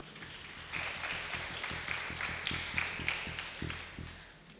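A church congregation at an anniversary service claps in a slow, fairly quiet rhythm, individual hand claps landing roughly in time across a few seconds.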